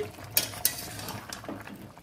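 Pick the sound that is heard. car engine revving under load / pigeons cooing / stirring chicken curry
stirring chicken curry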